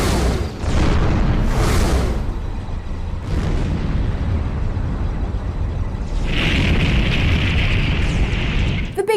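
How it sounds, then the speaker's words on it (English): Continuous booming explosions from a lengthy video game cutscene, a loud rumbling barrage with repeated blasts and bursts, dense and sustained throughout. "locating and destroying the Missing Procedure would entail 46 minutes of near-constant cutscene explosions"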